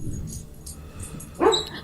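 A sleeping dog lets out one short, soft whimpering yip while dreaming, brief and close, rising out of low room noise.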